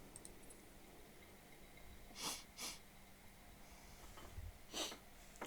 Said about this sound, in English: Sorry about the sniffles today.